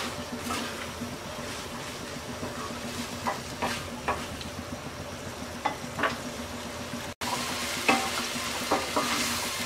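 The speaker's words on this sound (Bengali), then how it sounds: "এবার আমরা অল্প আঁচে 2 থেকে 3 মিনিট রান্না করব।" Potato and chickpea chaat frying in a pan over low heat, with a steady soft sizzle and intermittent scraping clicks of stirring, moderately close and without speech.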